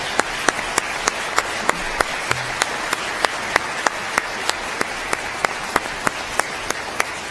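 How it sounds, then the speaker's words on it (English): Applause for honorees at a Florida pro bono awards ceremony, a steady wash of clapping from an audience with sharp individual claps standing out, continuous and moderately loud throughout. "Let's give all of our honorees one more hand of applause."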